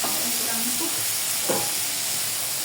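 A utensil scrapes and stirs through food in a pan after a little hot water is added, with a soft steady sizzle underneath and one clearer scrape midway.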